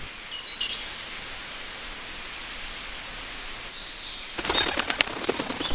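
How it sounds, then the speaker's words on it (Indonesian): Birds call and chirp around a campsite, with high thin whistles over a steady outdoor hiss and a burst of wing flapping or rustling near the end. "Seru banget nih, di sini banyak burung."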